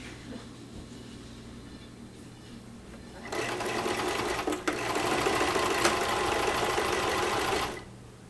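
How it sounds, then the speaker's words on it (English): A sewing machine stitches a seam on a reversible purse about 3/8 inch from the fabric edge, its close, steady whirring run lasting several seconds after a low background hum, then stopping. "Sewing machine right here."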